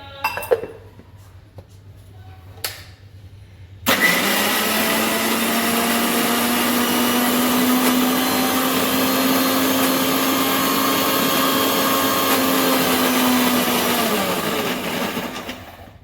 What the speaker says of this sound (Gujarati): તો આપણે પહેલાં તુવેરના દાણા મિક્સરમાં કાઢી લઈશું।